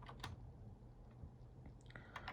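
Keys clatter on a computer keyboard in a few quick, soft bursts, with scattered separate taps in a quiet room.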